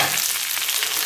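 Raw peanuts, chilies and curry leaves frying in hot oil on a medium flame, giving a dense, steady crackling sizzle up close with no voices.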